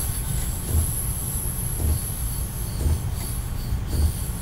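Rolling train in Train Simulator 2020 on the Mannheim to Biblis route, coasting under braking into an underpass, with a steady low rumble, high wheel squeal throughout and periodic rhythmic clacks of wheels over rail joints.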